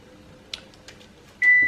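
A kitchen oven gives a single sustained electronic beep near the end, preceded by a few faint clicks and small noises in an otherwise quiet room.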